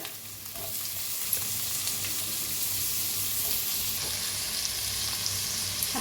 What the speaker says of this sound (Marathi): हलवून त्याला बी छान असं भाजून घेऊया बघा छान असं भाजायला लागलंय